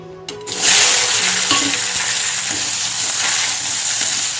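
Eggplant dropped into hot oil sets off a sudden loud frying crackle that stays strong and steady as the pieces fry, with some faint clinks, close up and with no voices.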